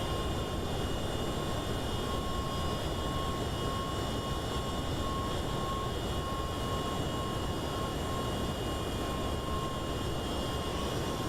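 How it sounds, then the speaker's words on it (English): Lufthansa Cargo MD-11 jet in flight, a constant broad roar of engine and airflow with a faint steady tone above it, unbroken and even for the whole stretch. "Lufthansa Cargo MD-11."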